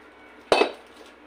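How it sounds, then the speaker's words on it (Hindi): A metal kadhai wok is set down on a stove with one sharp clank that rings briefly and fades within half a second, against a quiet room. "कढ़ाई मैंने रख ली है"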